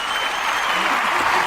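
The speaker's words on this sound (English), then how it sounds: "Are they done clapping now?" A crowd claps continuously, a thick, even wash of applause close by, with a murmur of voices underneath.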